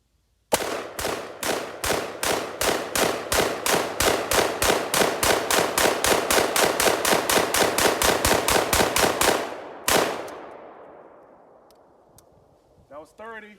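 An AR15 rifle fed from a 30-round aluminum magazine fires a rapid, even string of loud, close shots, then falls silent with a fading echo, followed by a faint metallic rattle.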